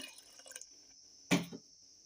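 A short splash of water is poured into a pot of soft-cooked lentils, one quick burst against quiet kitchen background hum.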